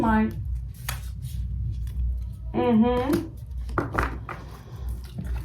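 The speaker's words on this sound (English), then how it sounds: "I have to admit these cards are not so easy to shuffle." A deck of tarot cards being shuffled by hand, with soft riffling and sliding bursts close by, interrupted by a person talking.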